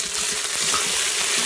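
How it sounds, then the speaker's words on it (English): Meatballs brown in an Instant Pot, giving a short burst of dense, even sizzling close by with no voices. "So here we are just going to keep browning those meatballs"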